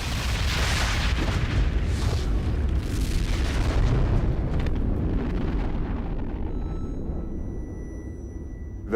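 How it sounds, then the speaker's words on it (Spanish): A nuclear test detonation known as Apple II, May 1955: a massive, sustained roaring boom that rumbles heavily for several seconds before slowly fading into a lower, thinning roar. "Sobrevivió a una detonación conocida como Apple II en mayo de 1955."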